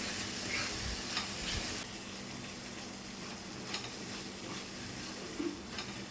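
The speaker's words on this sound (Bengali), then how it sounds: "ভালো করে মশলাটা কষিয়ে নেব" Salt, turmeric and Kashmiri chili powder frying in a pan, a steady low sizzle with faint stirring scrapes, close but quiet.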